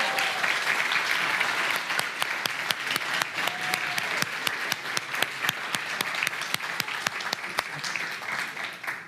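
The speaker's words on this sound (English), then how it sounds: "let's give Lucy another round of applause" A church congregation at a youth-group Nativity play gives a round of applause, a steady patter of many hands with some sharp, distinct claps standing out, moderately close and fading at the end.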